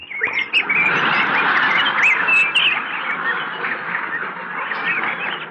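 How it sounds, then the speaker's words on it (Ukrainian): Loud, dense bird-like honking and chirping, goose or duck-like, runs continuously as a comic sound effect standing in for censored swear words in a TV sketch. "Якщо ті слова, що не можна вживати при дітях, замінити пташиним щебетом, то їх розмова буде ось такою."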